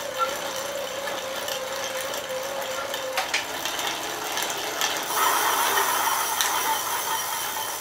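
A pedal-powered bike generator with a flywheel runs with a loud mechanical whir and ratcheting clatter, a tone that sags then picks back up as the pace changes, with no voices.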